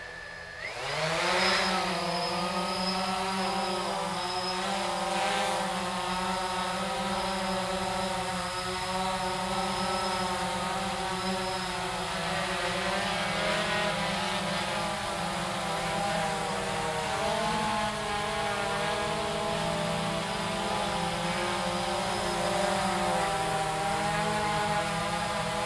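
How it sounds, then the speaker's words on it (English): Blade 350 QX3 quadcopter motors spin up with a sharp rising whine and settle into a loud, steady buzzing drone as the craft takes off and hovers nearby, with no talking. "So we'll go ahead and start the motors and take off."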